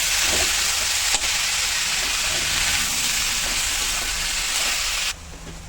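Tomatoes with ginger sautéing in a pan for a bitter gourd thokku, a loud continuous close sizzle and hiss that cuts down near the end, with no talking.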